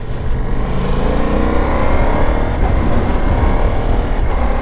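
A Ducati Multistrada V4 Pikes Peak motorcycle engine roars loud and close under acceleration, a dense continuous rumble with wind rush and no speech.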